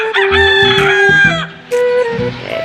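A rooster crows loudly and close by, one long drawn-out call followed by a second rising crow, with clucking fowl underneath.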